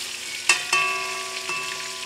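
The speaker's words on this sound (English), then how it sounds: "right now I'm frying this, and it's turning to be a nice color" Flour-coated chicken fries in a pan with a steady soft sizzle, broken by a few metallic clinks of a utensil against the pan that ring briefly.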